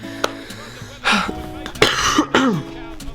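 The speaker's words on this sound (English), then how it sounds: "there's going to be a lot of coughing in this episode" A man coughs and clears his throat in three rough, broadband bursts spaced about a second apart, close and loud over quiet background hum.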